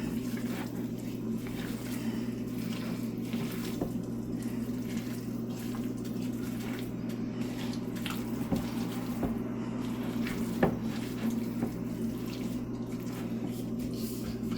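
A kitchen tap runs slowly in a steady, low continuous stream, with soft water noise and a few faint clinks, no talking.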